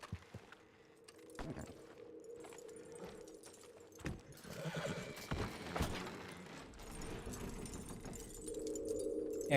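Horses in a barn in Red Dead Redemption 2, heard as sparse, quiet hoof thuds and knocks alongside creaking, mechanical tones and a steady low hum, the scene growing busier and louder toward the end.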